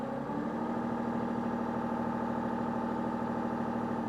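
A SCI T1 Digger excavator engine runs at a set speed, a steady, close mechanical drone with a constant low hum and even whirring that holds without change from start to finish.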